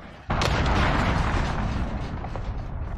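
A cruise missile explodes in a Call of Duty: Modern Warfare match, a sudden loud blast that swells into a sustained roaring rumble with crackling debris.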